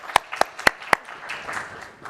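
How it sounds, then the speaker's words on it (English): At a rare disease advocacy summit, four sharp, evenly spaced hand claps ring out close by, then fade into a low murmur of a room. "She deserves a round of applause."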